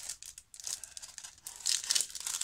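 A paper mail envelope being torn open by hand, close crinkling and ripping in short bursts with brief pauses, growing louder toward the end, no talk.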